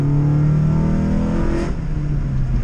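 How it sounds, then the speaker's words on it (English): A Honda Civic EG engine pulls hard in second gear on concrete, a loud, steady rising drone heard close up and alone. "Oh yeah, second gear pull."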